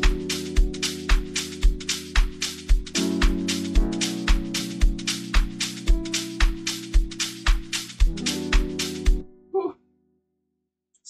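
An amapiano drum loop from a sample pack plays with a track, punchy regular kicks and crisp percussion over sustained chords, loud and steady before cutting off near the end.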